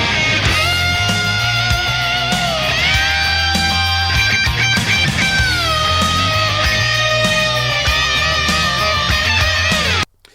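An electric guitar plays the opening phrase of a solo, with sustained, bending lead notes ringing over a full, continuous band backing for about ten seconds before cutting off abruptly.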